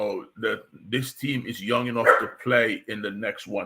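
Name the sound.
dog barking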